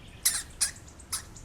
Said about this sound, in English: Hamster.